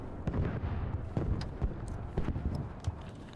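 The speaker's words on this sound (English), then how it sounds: "Enemy tank is shooting at us at Fortress." Enemy tank cannon fire in a video game, a run of sharp booming shots at irregular intervals over a steady rumbling battle background, with no voices.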